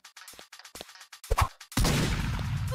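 Revolver gunshots in the Roblox game Knife Ability Test: a run of sharp, quick cracks with uneven spacing, then a loud, dense burst of noise that carries on to the end.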